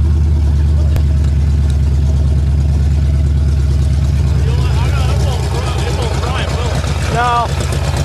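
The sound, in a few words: vintage engine running as throttle is turned up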